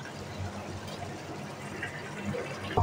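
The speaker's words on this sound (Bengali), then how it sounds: "ডালটা ধুয়ে নেই, ডাল ধুইছি আগে, ধুয়েই রাখছি, তারপর আবার একটা ধোয়া দিলাম" Lentils (dal) being washed in water, a soft continuous sloshing and trickling close by, with a brief louder splash at the end.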